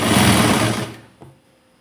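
A sewing machine runs a short burst while stitching a blouse seam for a tailoring lesson, loud and steady for about a second, then stops with a faint click after.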